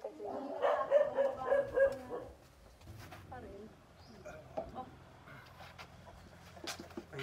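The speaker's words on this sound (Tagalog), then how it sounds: "may tuta dito" A puppy yaps in a few quick barks at the start, then fades out while people talk outdoors.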